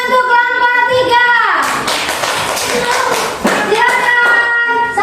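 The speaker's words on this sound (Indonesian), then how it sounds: "Tepuk tangan untuk kelompok 3." Clapping for a group of students in a classroom session, tapping hands breaking out after a few seconds alongside a sustained tonal sound and children's voices in the background.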